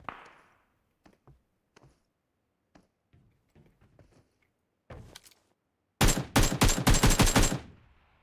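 Automatic gunfire from a PUBG Mobile match erupts near the end as a loud, rapid burst of shots, preceded by scattered soft clicks and thuds.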